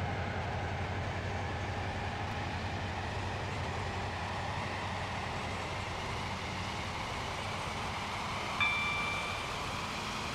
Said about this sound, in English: This train is now approaching East Berrow.